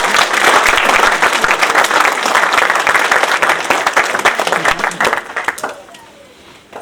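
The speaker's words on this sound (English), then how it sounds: "can we give these two very special guests a round of applause?" A crowd applauds loudly at a nursing program white coat ceremony, dense clapping that holds steady and then gradually thins and fades toward the end.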